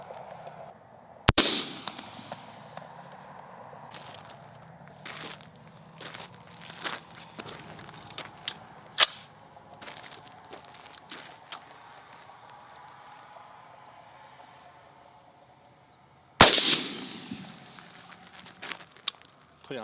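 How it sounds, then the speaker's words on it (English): Two sharp suppressed AR-15 rifle shots, one early and one near the end, each a loud crack with a short decaying tail, separated by a long quiet stretch of faint outdoor background. "Last shot on the AR-15."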